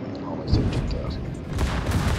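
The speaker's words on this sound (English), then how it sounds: "Second battery's firing at him." Secondary battery guns of the battleship New Mexico firing in World of Warships, a dense run of booming shots and rumbling gunfire close up over a game mix, with a voice talking over part of it.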